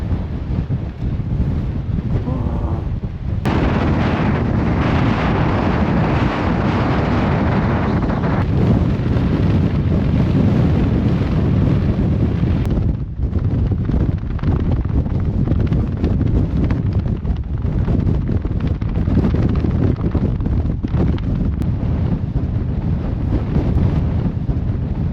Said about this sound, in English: Right, Joe, she's windy.